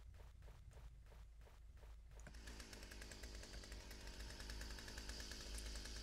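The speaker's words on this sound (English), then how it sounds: "So this is a chainsaw. It's gonna be our main melee weapon." Chainsaw used as a melee weapon in a video game: a rhythmic idling putter pulses several times, then the saw revs into a continuous loud buzzing roar that holds steady to the end.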